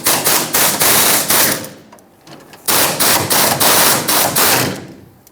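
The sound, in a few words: removing 10mm bolts from fuel tank shield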